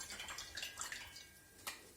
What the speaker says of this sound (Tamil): இன்னும் கொஞ்சம் தண்ணி சேர்த்து